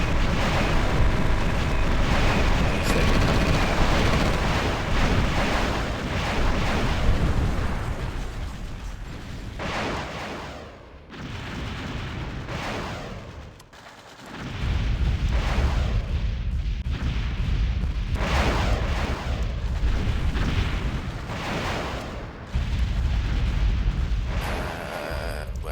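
Carrier-launched airstrikes in a Japan 1936 sandbox game of SR2030: a dense, loud barrage of rumbling blasts and bursts that rolls on almost continuously, with brief lulls between waves.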